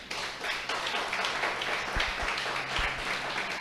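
Congregation at a church service claps together in a broad, continuous wash of applause, with a few heavier low thumps partway through and little speech.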